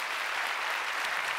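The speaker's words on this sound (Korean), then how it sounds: "세례를 받아 하나님의 백성이 된 이분들이 인사하실 때 박수로 축복해 주시기 바랍니다." A church congregation claps steadily for newly baptized members at a Sunday service, a dense, even wash of many hands in a large room.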